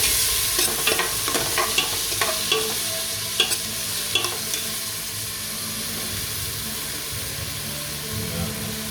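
Tomatoes fry in a pan for beef kaldereta, a steady close sizzle with several stirring knocks early on, then an even hiss.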